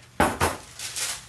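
A cold, empty cast iron pan handled on a stovetop, giving two sharp metallic knocks followed by softer scraping contact.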